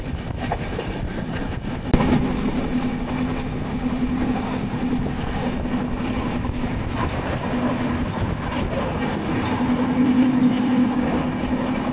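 An express train runs at speed on the Ahmedabad–Bhuj line, heard from inside a carriage as a constant loud rumble with rail clatter and a faint low hum. A sharp knock comes near the start, then the noise swells slightly toward the end.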